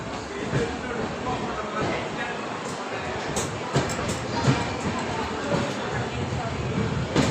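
A train departing Subrahmanya station, a steady rumbling rail noise with occasional metallic clacks, heard alongside platform bustle and voices.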